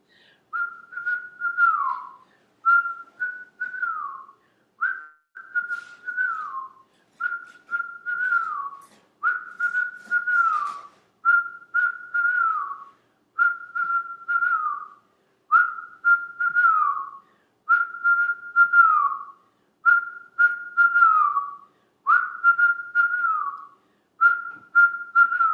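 Rhythmic whistled breath through pursed lips during a Subagh Kriya breathing exercise: a steady series of short, clear, near whistles, each falling slightly at its end, repeating evenly with brief gaps and nothing else heard.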